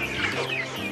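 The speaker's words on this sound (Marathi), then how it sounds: "या कांदा चाळीमध्ये गावरान देशी कोंबडीचं पालन केलं तर असा विचार भीमच्या मनात आला." Desi native country chickens cluck on a poultry farm kept in an onion storage shed, a short burst of overlapping clucks, close and fairly loud, with no talking.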